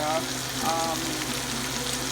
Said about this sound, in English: So it's frying right now, and I'm gonna fry it real crispy and brown